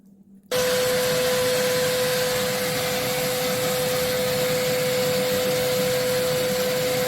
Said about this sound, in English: I'm going to turn the vacuum on and see what happens.